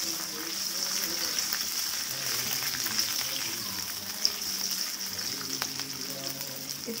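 Garlic and green chili with a little salt fry in butter in a pan, making a continuous, even sizzle with faint crackles and one brief sharp pop midway.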